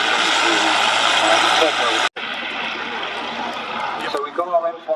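A WWII Centaur tank at a tracked-vehicle display rumbles past with a loud, steady engine roar and track noise, broken by one abrupt dropout before the roar resumes. A commentator talks over it throughout.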